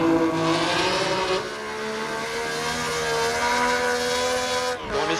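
A 2007 McLaren MP4-22 Formula One car revs hard through the gears at Monaco in a racing game, a loud, sustained high-pitched engine whine that rises steadily before a brief dip near the end.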